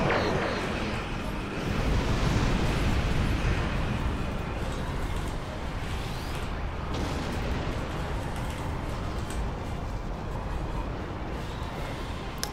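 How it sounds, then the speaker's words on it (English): A station plasma lance fires in Star Trek Online during a Mirror Universe event, a loud, sustained roaring blast with rumbling bursts that fills the whole stretch, no speech over it. "Firing station plasma lance in 3"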